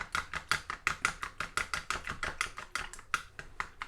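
White dough mixture beaten by hand, a quick, even run of soft slapping strokes repeating several times per second, close and fairly quiet.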